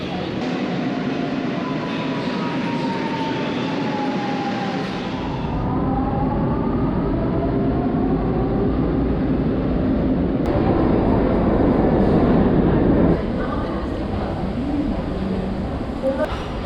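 A Portuguese tilting Pendolino train hums and rumbles steadily, with a rising and falling whine as it runs and a brief rattle midway, heard from on board without a break.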